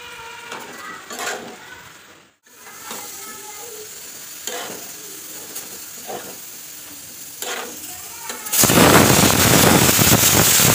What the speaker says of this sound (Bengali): কলমি শাকগুলো ভাজা হয়ে গেল